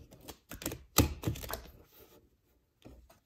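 Brief bursts of crisp riffling and tapping as tarot cards are shuffled, in a few quick clusters separated by short pauses.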